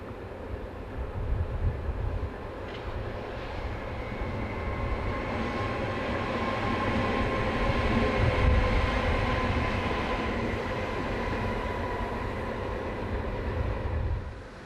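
A Class V 100.4 diesel locomotive runs past with a continuous low rumbling engine drone and steady mechanical hum, fairly loud and sustained throughout with no speech.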